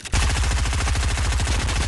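A submachine gun fires in a shooter video game as a loud, rapid, continuous burst of evenly spaced shots lasting about two seconds, with no talking over it.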